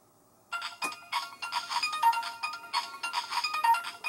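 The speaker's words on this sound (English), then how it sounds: "Now, if we leave the phone alone for a little bit, we'll actually get a call." Kamen Rider Geats DX Spider Phone toy playing its incoming-call ringtone, a bright electronic chiming melody starting abruptly and continuing loud and steady from close by.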